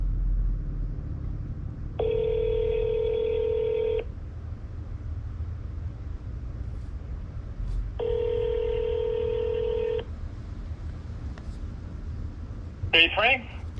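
A telephone ringback tone sounds twice, each two-second ring separated by a pause, steady and clear over a low rumble, with a brief voice at the end.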